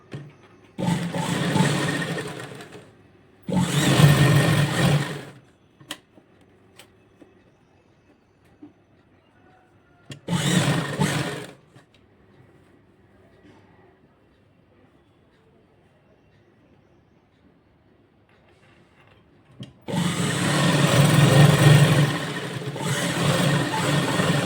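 A sewing machine stitches lining cloth onto a blouse in bursts of steady motor whirr and rapid needle chatter. Four separate runs are separated by near silence, the last one long and continuous.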